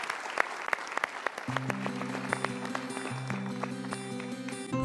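An audience at a Mario Teguh seminar claps for a guest named Pak Sabto as he comes forward, scattered claps over a steady hum, with a sustained musical tone entering partway through.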